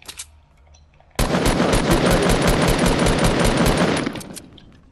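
Automatic gunfire in the video game Fortnite during a squad match: a loud, sustained burst of rapid rattling shots lasting about three seconds, close and dominant, with no talking.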